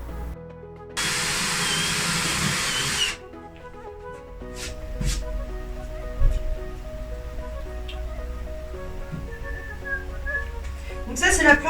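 A power drill bores holes into a 120 by 40 wooden plank for a DIY cat tree: a loud, steady whir for about two seconds, followed by quieter knocks and handling noises while someone talks.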